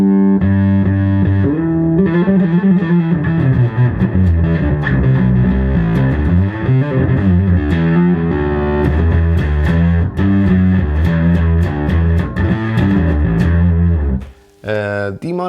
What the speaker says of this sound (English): So here's distortion in bass mode.